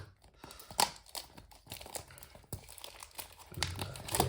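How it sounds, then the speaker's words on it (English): Crinkly plastic film being peeled and pulled off a toy dinosaur box, with irregular crackles and rustles close by and no talking. "we can take off this plastic film"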